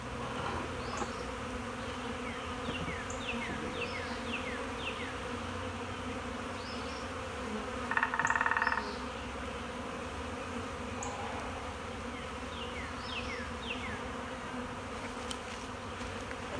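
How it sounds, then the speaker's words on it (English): Honeybees hum steadily in a dense, close swarm around a hive, with individual buzzes swooping past now and then. "Pushing some of these bees off."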